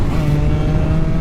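A Honda NSR250 and a Suzuki RGV250, both two-stroke 250 cc motorcycles, give a close, loud, steady buzzing engine drone with a strong low hum, heard alone for a brief moment.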